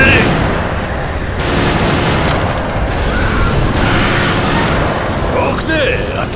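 Gunfire from Left 4 Dead 2 in a zombie-survival fight, dense loud bursts that roll over one another in a sustained, noisy barrage, with no talking.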